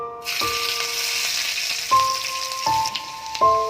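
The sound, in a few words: garlic frying in hot oil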